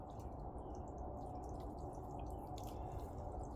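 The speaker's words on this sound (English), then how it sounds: "Give those a bit of water." Water trickles and drips onto potted plants and soil in a cold garden, a steady, soft, close splashing texture with no voices.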